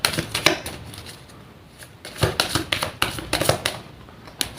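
Tarot cards being shuffled by hand, bursts of crisp riffling and slapping in irregular clusters with short pauses between, close and fairly quiet with no talking.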